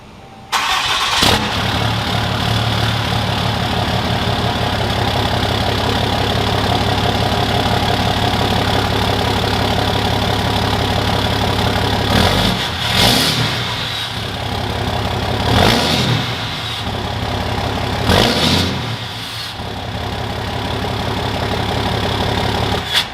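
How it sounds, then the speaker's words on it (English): Dodge crew cab long bed truck with its factory 4-inch turbo-back exhaust fully deleted, idling loudly with a steady deep rumble, then revved in three sharp bursts before settling back to idle. "that was the factory 4-inch turbo back, fully deleted exhaust sound on my crew cab long bed"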